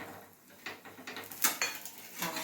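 A metal spatula scrapes and taps against a pan while lifting a flatbread cooked with oil, giving a few quiet, irregular clinks and scrapes over faint kitchen background.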